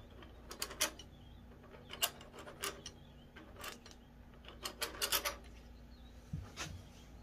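A Farmall Cub engine valve lapped by hand against its seat with grinding compound, giving a series of short gritty rubbing and scraping bursts in uneven clusters, fairly close and moderately loud over a low steady hum.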